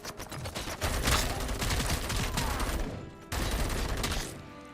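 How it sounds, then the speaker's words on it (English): Sustained enemy machine gun fire from the video game RoboCop: Rogue City, a loud dense rattle of rapid shots that runs almost continuously, with one short break near the end before the firing resumes. "I just assumed that guy was on a machine gun."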